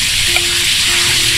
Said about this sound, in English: I'm gonna put in some garlic now.